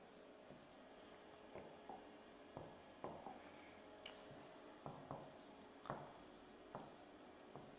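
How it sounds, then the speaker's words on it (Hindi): Chalk or marker writes on a classroom board in a string of short, quiet scratchy strokes, each a brief burst with small gaps between, while a teacher speaks now and then. "मैं यहां पर लिख ही दूं"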